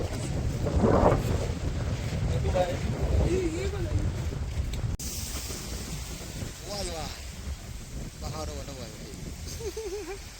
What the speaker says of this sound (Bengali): প্রচন্ড হাওয়া দিচ্ছে